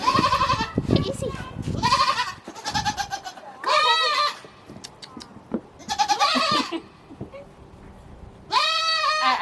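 Goats bleat repeatedly at close range in a playful barnyard scene, loud harmonic cries arriving in several bursts spread across the clip, with people talking and laughing between and over the calls.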